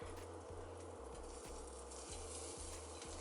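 Butter melts in a pan with a soft, even sizzle close up, backed by a low humming tone that pulses at a steady rhythm about twice a second.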